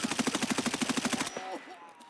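Rapid automatic gunfire in the Escape from Tarkov video game, a quick burst of a dozen or so shots fired in steady succession at moderate distance, followed by a brief faint tail.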